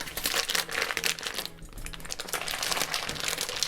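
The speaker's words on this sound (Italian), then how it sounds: "È arrivato il momento di cenare, quindi apro il sacchetto" A plastic bag of sous vide potatoes being opened, with steady close crinkling and rustling of the plastic and a brief quieter pause midway.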